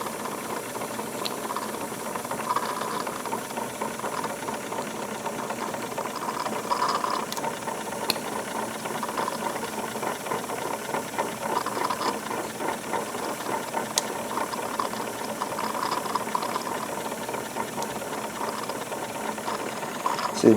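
A Wilesco D22 model steam engine running smoothly with its eccentric linkages working: a steady, fast mechanical ticking and clattering of small metal parts, close and even throughout, with no talking.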